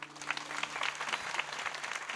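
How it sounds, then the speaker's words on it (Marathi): An audience at a devotional kirtan claps together, giving a dense, even burst of applause that lasts throughout, fairly close and unbroken. "टाळ्या वाजवा ना जोरदार."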